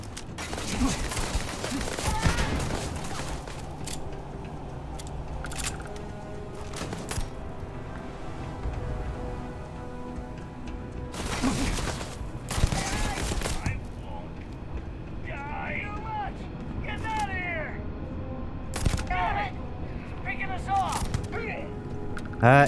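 Sharp gunshot bursts from a pistol in the sci-fi game Starfield, a few clustered cracks early and a loud pair around the middle, under steady game ambience with a voice talking throughout.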